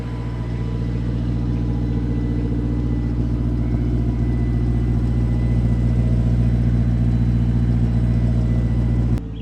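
Turbocharged Honda K24 engine idling while warming up, a steady loud low hum with a firm rumble, close by and unchanging, then cutting off abruptly at the very end.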